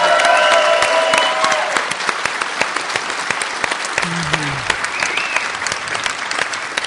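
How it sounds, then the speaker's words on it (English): A conference crowd at a Linux user group event applauds its organiser, a dense, steady round of clapping that runs the full length and eases slightly in level after the first seconds, with a few voices calling out beneath it. "please give this guy specifically a round of applause"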